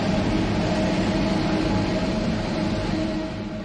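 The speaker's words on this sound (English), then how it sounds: "A free monorail skirts the perimeter of the main area" Free monorail train running along the perimeter of the main area at Expo 1970 in Osaka, a steady continuous rumble and hum of the passing train, loud and close, easing slightly toward the end.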